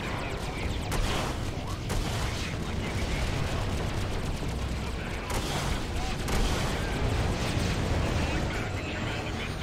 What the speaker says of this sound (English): Dude, that was a huge explosion.